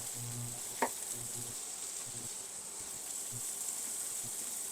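Onions and peppers sizzle steadily in a hot pan, a continuous broadband frying hiss with one brief clink of a utensil near the start; the sizzle stays even and moderately loud throughout.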